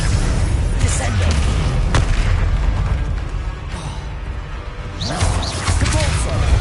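Descendo spell in Hogwarts Legacy slams a target down with heavy, booming thuds and impacts, loud and close, with a brief dip in the middle before another forceful crash near the end.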